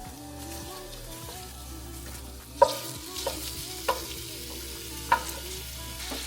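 Olive oil sizzles steadily in a soup pot for tortellini soup while a spoon scrapes and stirs, with a few sharp clinks standing out over the continuous frying hiss.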